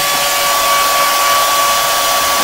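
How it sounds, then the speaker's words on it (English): A blow dryer runs continuously to heat a wine bottle, a loud, steady close whooshing roar with a constant motor whine and no other sounds. "that's about as much as I'm going to use a blow dryer on"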